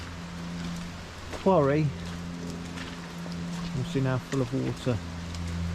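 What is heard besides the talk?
rain falling onto water in a flooded quarry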